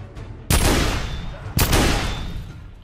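Cannon blasts and gunfire in The Order 1886 video game, two heavy booming shots about a second apart, each decaying with a rumbling tail, loud and close.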